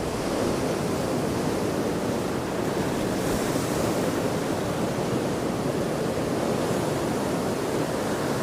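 Rough sea at Hendon Prom after Storm Darragh, with large breakers crashing in a continuous heavy surf roar, loud and close, with wind buffeting the microphone throughout.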